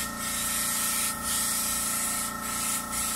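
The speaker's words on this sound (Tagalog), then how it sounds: "Kita na yung nag-spray o." A car being repainted with a spray gun gives a continuous, loud, close hiss of paint spraying, with brief dips where the spray pauses, and no talking.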